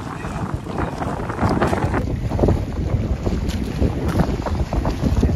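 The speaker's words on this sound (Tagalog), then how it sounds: "What a lovely wind guys. Napakaganda ng hangin natin. Lakas." Strong wind on Boracay island buffets the microphone in continuous rough gusts, with a faint high whistle and possible water sounds beneath.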